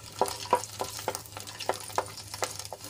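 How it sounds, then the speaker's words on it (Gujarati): Twelve to fifteen garlic cloves sautéing in oil in a kadai, a soft steady sizzle with a rhythmic series of spatula scrapes and stirring taps, fairly quiet and close. "લસણને આપણે થોડુંક લાલ થાય ત્યાં સુધી સાંતળી લેવાનું છે"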